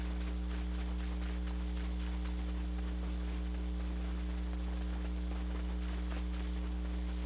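Horse hooves clip-clopping in a video game, a steady run of soft hoofbeats under a constant low droning hum, with no talk.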